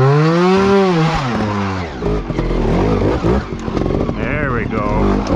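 A trials motorcycle in second gear revs hard into an obstacle, its engine pitch rising and then falling. Rough, broken engine and tyre noise follows as the bike clears the obstacle.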